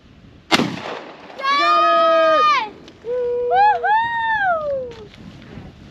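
A single sharp, close gunshot cracks out during a shooting session, followed by people talking.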